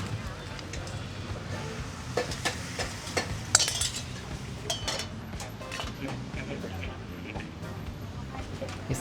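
A chef cooks a secret sauce for Thai noodles at a Bangkok street food stall, with steady sizzling and frying, stirring and clinking of pots and utensils throughout.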